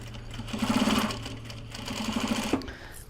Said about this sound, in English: Sewing time, sewing time,